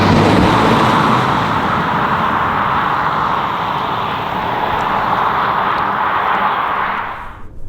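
Kia Niro hybrid driving along a B-road, heard from inside the car as a steady, loud broadband road and engine roar that holds without a break, then drops away abruptly at the end.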